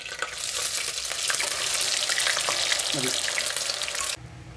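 Beaten egg sizzles loudly in hot oil and butter for an omelette, a dense steady frying hiss that cuts off abruptly near the end, with a brief faint voice in the middle.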